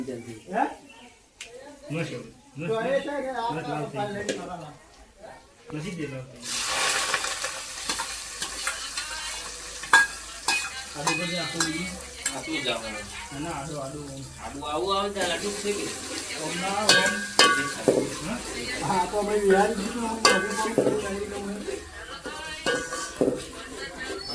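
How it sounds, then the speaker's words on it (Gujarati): A Gujarati onion and potato tempering sizzles in a pan and is stirred repeatedly, with the spoon scraping in bursts while a person talks throughout. "મસ્ત વઘાર માર્યો છે ડુંગળી બટાકાનો"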